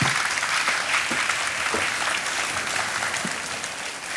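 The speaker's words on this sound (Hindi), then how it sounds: "तालियां बजती रहें देवियों सज्जनों।" A studio audience on a television quiz show gives sustained, even applause, a dense wash of clapping throughout with a few sharper claps standing out.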